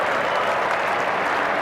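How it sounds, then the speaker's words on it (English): England's Barmy Army cricket fans burst into loud, dense applause and cheering in a big stadium at Adelaide for a boundary during an Ashes Test, a close, continuous roar with no clear voices. "big cheer from the Barmy Army"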